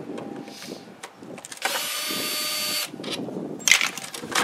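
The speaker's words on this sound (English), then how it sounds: "So you pull those out with your handy dandy drill." A power drill whirs in one sustained burst of about a second, removing screws, with soft clicks and handling noises before and after.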